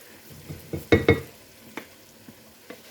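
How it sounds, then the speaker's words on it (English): A spoon stirs Bush's Original baked beans with their juice in a pot. Soft, thick scraping and a few sharper knocks of the utensil against the pot come in irregular bursts, close and fairly quiet. "We will just stir this together till it's good and combined"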